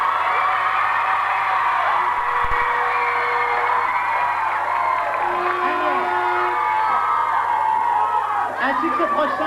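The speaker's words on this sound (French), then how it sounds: "Mais oui, vous pouvez applaudir." A live radio-show audience in a hall at Royan roars with sustained cheering, whoops and shouts, loud and continuous throughout with crowd noise filling the space.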